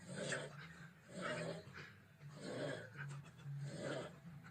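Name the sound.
recording of a man snoring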